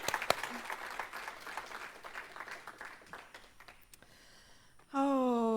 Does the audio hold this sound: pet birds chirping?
no